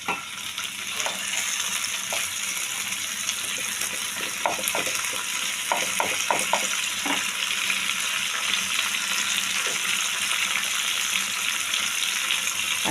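Tomato and green chilli frying with spices in a pan for a pea and potato curry, a steady loud sizzle with scattered clinks and scrapes of stirring, no talking.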